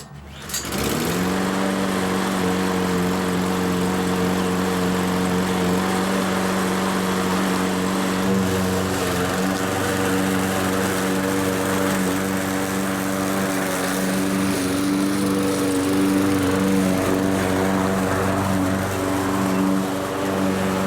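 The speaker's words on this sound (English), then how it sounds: "the Lawn Boy with the Harbor Freight lawnmower engine that everybody says it won't last long" A Lawn Boy mower fitted with a Harbor Freight engine, left out in the rain for a week, fires up almost at once and then runs at a steady, loud, even drone for the rest of the clip.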